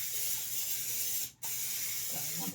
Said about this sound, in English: Spray the pan, put our cauliflower in there.